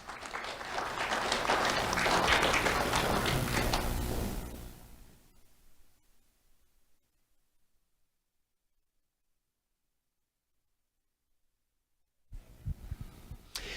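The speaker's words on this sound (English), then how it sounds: "Let's have a round of applause for Manaya Jean" An audience applauds an award recipient at a sheriff's office community awards ceremony, with broad, steady clapping that swells and then fades to silence, before other sounds resume near the end.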